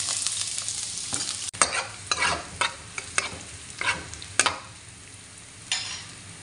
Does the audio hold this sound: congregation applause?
no